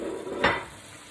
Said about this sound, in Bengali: আমি সবগুলি উপকরণকে এখন এই পেঁয়াজের মধ্যে ঢেলে দিচ্ছি